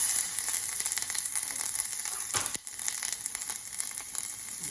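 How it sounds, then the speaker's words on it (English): Ginger frying in sesame oil in a pan, giving a steady, close hiss of sizzling with a brief crackling flare midway. "I'm gonna add a little bit of sesame oil, some ginger,"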